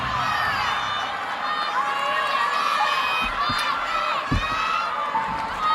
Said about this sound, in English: It's a nice crowd here.